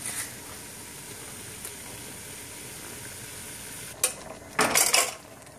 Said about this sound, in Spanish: Y luego ya le vamos a ir poniendo el pollo de una vez. Le voy a agregar el pollo.